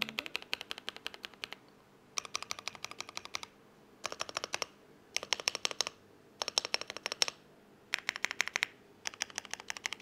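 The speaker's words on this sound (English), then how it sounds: "Let's do a quick typing test." Rapid clicky typing on a $99 custom mechanical keyboard in several bursts separated by short pauses, crisp and close, with no voices.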